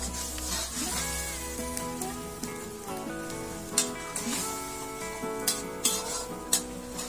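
Stirring a simmering pot of bagoong sauce: a spoon scrapes and clinks against the metal pot in several sharp taps over a continuous low sizzle and bubbling, close by, with no talking.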